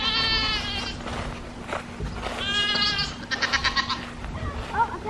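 Several farm goats bleat close by in a series of wavering, nasal cries, some overlapping, with short pauses between calls and a faint low hum underneath.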